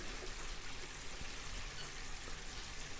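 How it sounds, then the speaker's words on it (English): Water poured from a watering can into the base of a seed tray for bottom-watering tomato seedlings, a faint continuous trickle and wash heard close, with no talk. "I'm going to pour the water into the base."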